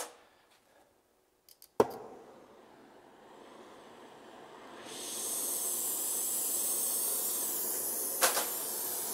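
After a few clicks, an oxyacetylene torch preheats cast iron. A soft hiss swells into a loud, steady, rushing roar that holds to the end, broken once by a brief burst.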